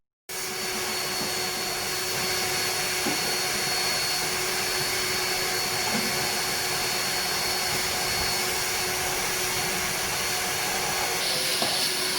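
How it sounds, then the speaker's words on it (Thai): A vacuum cleaner sucks dust and leaf debris out of a Nissan Juke during an air-conditioning unit repair, giving a loud, continuous whining roar that starts abruptly and runs unbroken throughout. "การดูดฝุ่นเศษใบไม้อะไรให้เรียบร้อยนะครับ"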